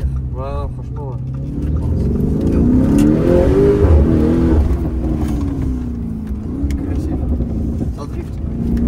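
A Lamborghini Urus Mansory, a 745 hp SUV, revs loudly up and back down in a swelling, close-range engine roar, with people talking over it.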